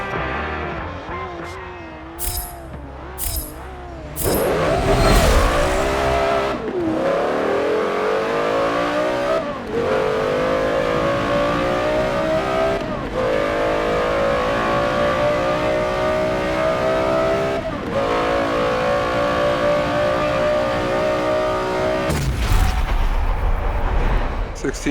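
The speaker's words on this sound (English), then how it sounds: "2003 Porsche Carrera Gt. This one's gonna be pretty wild" A 2003 Porsche Carrera GT in a Forza Motorsport 7 drag race blips at the line, then launches into a loud, sustained revving howl, rising through repeated upshifts with brief dips between gears.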